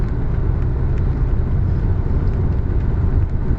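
Steady low rumble and whir of a car cruising along a road on a hot day, heard from inside the cabin, a constant loud drone with no talk.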